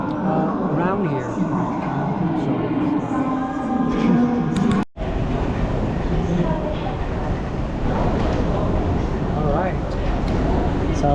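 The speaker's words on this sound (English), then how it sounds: "This one is a bullet train" Steady rumbling hum inside a Chinese bullet train with a continuous whoosh, people talking over it throughout.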